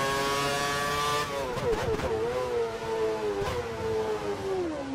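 A Formula 1 race car in F1 2013 howls under hard acceleration, its engine pitch sweeping up and dropping with quick gear changes, loud and close, with no talking.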